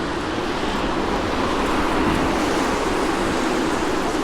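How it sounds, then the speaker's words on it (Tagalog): Strong wind buffets steadily in a constant, rushing roar with no pauses, loud and close throughout, while cycling in Rotterdam. "So, sobrang lakas yung hangin."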